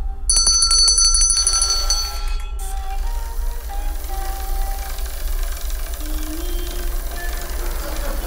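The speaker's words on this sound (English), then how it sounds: "when I ring the bell" A small bell rings several quick, bright strikes at the start, followed by a softer lingering tone over a low, steady background hum.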